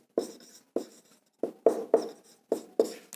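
Handwriting during a math lesson: a series of short, close scratchy pen or chalk strokes, about seven separate bursts with brief gaps between them, heard alone without speech.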